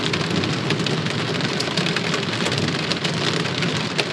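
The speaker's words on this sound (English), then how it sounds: "It's the first thunder-hailstorm of this season." Heavy rain from a spring thunder-hailstorm in the Black Hills drums loud and dense on a camper roof, a constant close hiss and patter of drops with no pauses and no talk.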